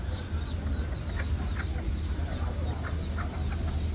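Serama chickens clucking as a rooster courts a hen, soft scattered clucks and calls over a constant low rumble of background noise.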